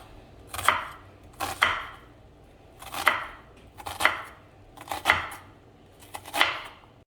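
Six or so sharp knife chops on a cutting board while preparing ground turkey and pepperoni lasagna, each a quick flurry of strokes, evenly spaced and close.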